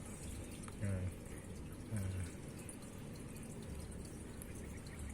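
A thin, steady trickle of water runs from a tap set to a slow drip for growing aquarium moss, with a couple of brief low thumps, quiet and close, no one speaking.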